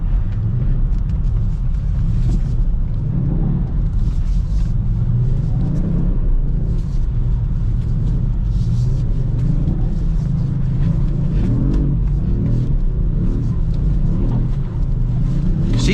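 A Kia Stinger GT2 AWD spins donuts in second gear on a snowy Chicago street during a winter storm, its engine droning in a loud, steady rumble with rising and falling throttle surges throughout.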